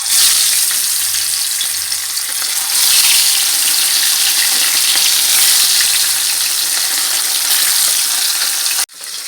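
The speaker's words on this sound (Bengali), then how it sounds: "মাছ আর মাংস আমি হলুদের লবণ মাখিয়ে নিয়েছি, এখন ভেজে নেব" Lote fish and meat coated in turmeric and salt fry in hot oil in a kadai, a loud continuous sizzle that holds steady before cutting off abruptly near the end.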